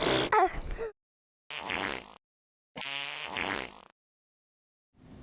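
Synthetic fart noises from a fart app on a Kindle, a series of separate buzzy, sputtering blasts with brief silences between them, loud and close.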